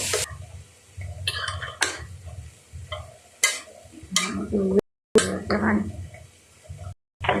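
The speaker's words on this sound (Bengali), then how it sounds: "মশলা দিলাম এখন মশলাটা কষিব কষাবো কষিয়ে নিয়েছি" Spice paste of coriander and mixed masala being stirred and sautéed in a pan while cooking fish curry with drumsticks and potatoes, with intermittent spoon scrapes and clatter against the pan over a low sizzle.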